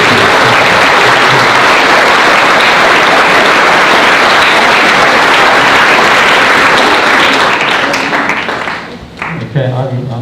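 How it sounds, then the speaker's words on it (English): A school assembly audience applauds loudly and continuously for several seconds at a Founders Day event, a dense close wash of clapping that fades out near the end. "can we give Mr. Cornick a round of applause for his presentation?"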